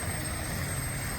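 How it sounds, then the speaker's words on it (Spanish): Helicopter in flight shortly before an engine failure and crash, a steady dense rotor and engine roar filling the whole moment at constant loudness. "Resulta que el motor falló y este helicóptero cayó como piedra"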